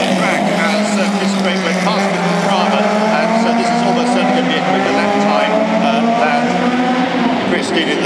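Small historic Italian racing cars at the Monaco Grand Prix, engines droning loud and steady with rising and falling pitch as they pass close, under a commentator's voice.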